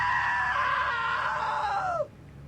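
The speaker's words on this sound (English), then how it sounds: "Now that was a great scream" A long, loud scream in the video game What Remains of Edith Finch, held for about two seconds and then cutting off sharply into quiet.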